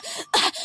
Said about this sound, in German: Ich hab nur ein bisschen Husten